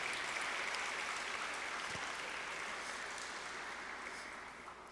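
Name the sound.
audience applause for speakers coming to the stage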